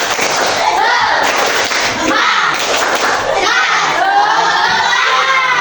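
Fourth-grade schoolchildren in an Indonesian classroom perform the tepuk semangat, a loud rhythmic group clapping chant with shouted voices in unison, close and energetic throughout.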